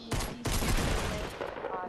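Dense bursts of video-game gunfire from a squad battle on a hill, two sharp loud onsets followed by a sustained crackling barrage with faint voices underneath.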